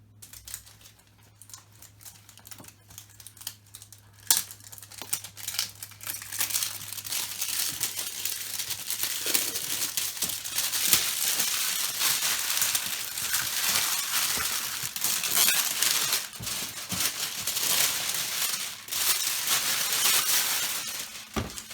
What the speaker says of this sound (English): Tear this plastic up.